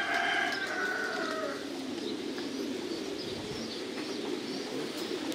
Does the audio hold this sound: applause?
no